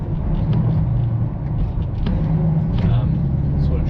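A wheel loader screening topsoil drives its bucket into a pile, heard as a loud, steady engine rumble from inside the cab with faint knocks.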